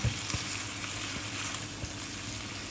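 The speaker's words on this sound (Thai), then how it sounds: "เราก็จะเคี่ยวไปจนกว่าน้ำจะแห้งนะคะ" Pork belly simmers in soy sauce in a pan as the liquid cooks down, giving a steady close bubbling sizzle with a few soft knocks, no voices.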